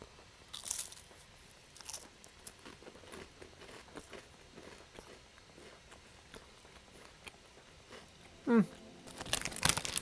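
Someone eats Turkish crackers covered in herbs and spices, giving faint close crunching bites and chewing with rustles of packaging, ending in louder crinkling handling noises.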